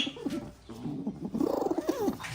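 Pigeons in a nest give soft, low warbling coos in short repeated bursts, close and quiet, with faint background noise.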